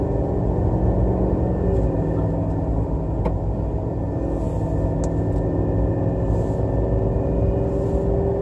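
A 2020 GMC Denali HD pickup hauls a large fifth-wheel RV down the road, a steady low engine drone and road rumble from inside the cab with a few faint clicks and no talking.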